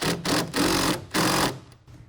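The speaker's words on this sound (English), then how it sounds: "We're going to want to tighten down this bolt, tighten the clamp." A 9/16 wrench tightens a clamp bolt on the bed rail of a 2014 Silverado crew cab pickup: three short bursts of close ratcheting clicks separated by brief pauses.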